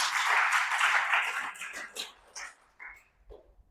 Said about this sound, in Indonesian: Berikan tepuk tangan bagi Allah kita.